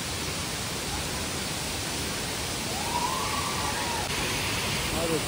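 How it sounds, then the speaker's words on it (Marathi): Steady broadband roar of the Savdav waterfall, its even rushing wash filling the whole stretch without pause, with a faint rising tone drifting through partway. "पहा मित्रांनो, सावडाव धबधबा."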